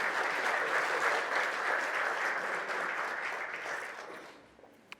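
Church congregation applauding, a dense, loud burst of clapping from many hands that holds steady for several seconds, then thins and fades out near the end.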